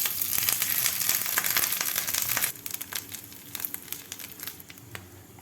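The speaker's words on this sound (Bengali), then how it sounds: "আমি এবার আদাটাকে 1 মিনিট একটু ভেজে নিব।" Ginger fries in a pan while fish curry is cooked, with a loud hiss that drops quieter partway through and is broken by scraping and crinkly stirring sounds up close.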